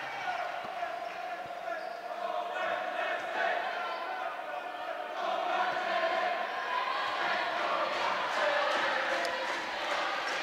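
A home crowd cheers at a St Joseph's Charlestown U19 girls' schools basketball game in an arena: a steady, dense roar with sneaker squeaks and ball bounces, and a commentator talking over it throughout.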